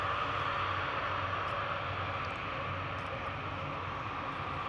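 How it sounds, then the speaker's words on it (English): A TUI aircraft at Newcastle Airport gives off a steady, broad engine roar at moderate distance, continuous and even throughout with no break. "Beautiful aircraft though."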